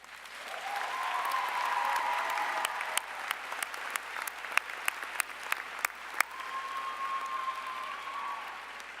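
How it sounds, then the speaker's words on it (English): An audience at a 2018 JWU Providence undergraduate graduation ceremony breaks into sustained applause, a wash of clapping heard from some distance in a large hall, swelling and then holding steady. "please join me in a round of applause"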